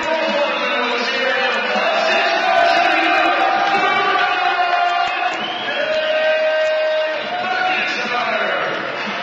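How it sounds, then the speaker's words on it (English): A home crowd of Waterloo Warriors fans at a university basketball game against Wilfrid Laurier cheers and roars for a player in his final home game, a sustained swell of voices that rises and falls. "he gets a nice round of applause from the Waterloo faithful here at the Pack in his final home game"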